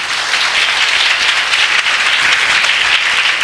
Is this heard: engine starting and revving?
no